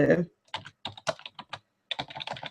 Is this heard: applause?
no